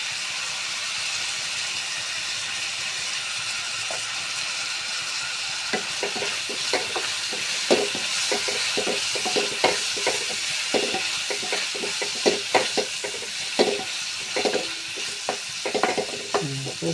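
Onion sizzles steadily in a pan with turmeric, a constant frying hiss, joined midway by a run of close, clicking stirs and scrapes against the pan.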